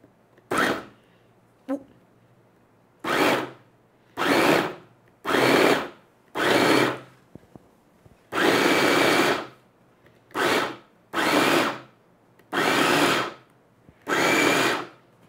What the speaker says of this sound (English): And let's blend.